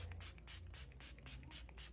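A small spray bottle mists water over a watercolor palette, giving about eight short, evenly spaced hissing bursts that stand out clearly against a quiet background.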